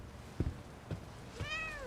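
A cat meowing in the video game The Medium, a soft short meow near the end after a couple of faint thumps, quiet and alone.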